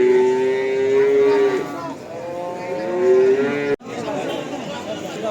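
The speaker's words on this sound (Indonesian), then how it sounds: "kita mulai sapi milik Pak E" Cattle moo loudly in long drawn-out calls at a livestock market, over a busy background of murmuring voices, followed by a sudden brief cutoff.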